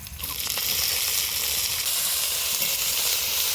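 Boiled Malabar spinach (pui shak) frying in a pan with black cumin, fennel, cumin and chilli, giving a steady, close, loud sizzle with no talking.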